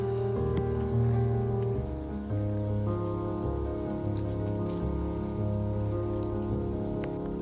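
Steady rain pattering on a surface close by, a continuous wash of drops with a low tonal hum running underneath.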